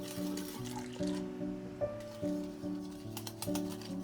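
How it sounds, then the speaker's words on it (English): Hot milk is poured into a yolk mixture while a whisk clinks rhythmically against the bowl, repeated sharp taps over a soft liquid trickle, close and alone without talk. "slowly pour it into the yolk mixture while whisking"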